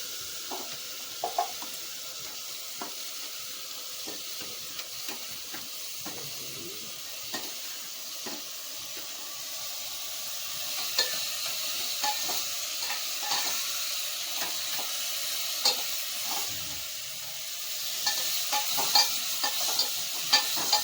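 Vegetables hiss and sizzle steadily in a hot pan after tempering, with intermittent scraping and clinks of a spoon stirring against the metal throughout, close and moderately loud with no talking.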